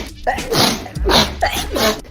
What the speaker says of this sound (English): I think I'm done sneezing.